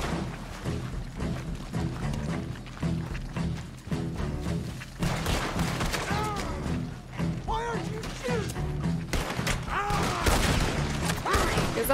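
Rapid gunfire from Red Dead Redemption 2 while the character runs: dense, repeated shots and thuds rattle along throughout, loud and close, with voices and game music mixed underneath.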